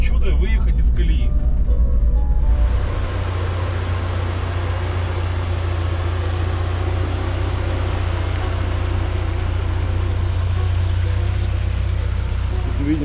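A UAZ Patriot with an automatic gearbox on Bridgestone Dueler M/T 674 tires churns through deep mud and clay, its engine a steady low drone. Someone talks over it throughout.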